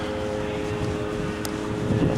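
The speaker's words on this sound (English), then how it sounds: "they fly their helicopters a little bit every day" Military helicopters flying training laps at Taji, Iraq drone steadily in the distance, a continuous low mechanical roar mixed with wind noise.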